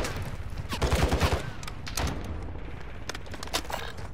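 Gunfire in the Call of Duty video game during an enemy attack: clustered bursts of shots and rapid volleys crackling over a steady combat din, fairly loud and continuous.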